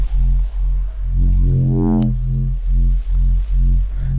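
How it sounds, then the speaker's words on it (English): A neuro bass synth patch in Phase Plant, driven through saturate distortion, growls in repeated pulsing low notes with a rising pitch sweep partway through, loud and alone. "Let's go ahead and add that other distortion, which is on a saturate."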